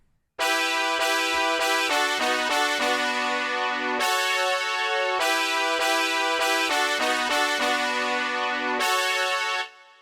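A bright synthesizer melody from a remake of a song in FL Studio plays a quick rhythmic phrase of staccato notes, repeating once, loud and clean, with no voices.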